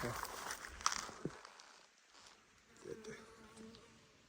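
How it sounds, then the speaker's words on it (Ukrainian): Bees buzz as they fly close by near flowering buckwheat, a soft droning hum with some faint rustling and a brief voice. "Вже бджілки літають."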